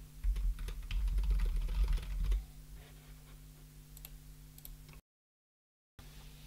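Typing on a computer keyboard during matchmove software work: quick, irregular key clicks, busier at first and then sparser, over a low electrical hum, with a brief silent gap near the end.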